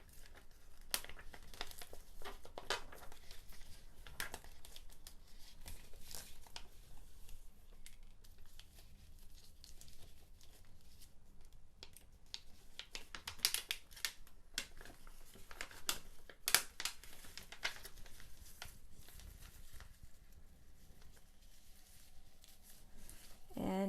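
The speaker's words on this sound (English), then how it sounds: "I'm taking my time to peel the vinyl so that I don't lose the details." Vinyl sheet being slowly peeled from its backing for a pumpkin-design cushion cover, giving soft, intermittent crinkling and tearing crackles at close range, quiet throughout with a few sharper bursts.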